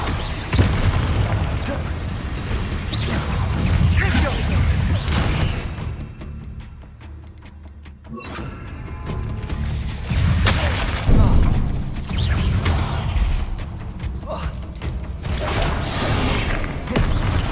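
Confringo and Bombarda spell explosions in Hogwarts Legacy come as repeated loud booms and bursts over a dense game soundscape, with a short quieter lull in the middle.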